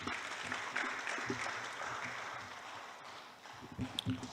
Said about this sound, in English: Let's have a big applause to him.